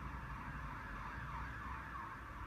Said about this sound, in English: today there are loads of sirens